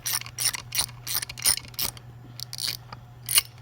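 A 3/8 ratchet clicks in quick bursts while backing a bolt out of an OMC 9.9–15 outboard lower unit, sharp close rhythmic ticking with short pauses between strokes.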